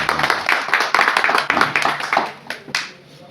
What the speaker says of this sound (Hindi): बहुत जोर की तालियां एक बार हो जाए